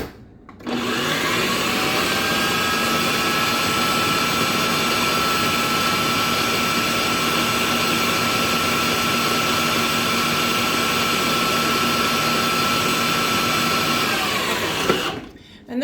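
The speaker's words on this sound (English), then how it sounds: "I'm gonna want to put that back into the processor for just a few seconds to mix it all in." A food processor whirring loudly and steadily for about fifteen seconds as it blends a protein bar mixture, starting and stopping abruptly with a high, constant motor whine.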